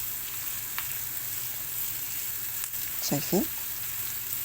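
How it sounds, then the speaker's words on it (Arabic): Chopped onion with salt, pepper and cumin sizzles steadily in a frying pan, a constant crackle with soft scraping as it is stirred. Someone speaks briefly near the end. "نحطوها بقى في الطاسة، حط عليها الملح، حط شوية فلفل، حط كمون، ونقلب لغاية ما تبقى كده لونها جاي على لون الأصفر"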